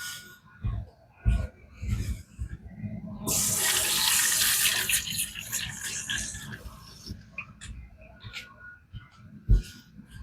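A kitchen knife on a whetstone is rinsed under a running tap, a broad steady splash of water lasting several seconds, with brief handling clunks before and after.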